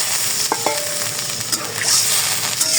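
Water poured into spice paste frying in oil for stuffed potatoes sets off a close, steady sizzle, broken by a few sharp clinks of stirring.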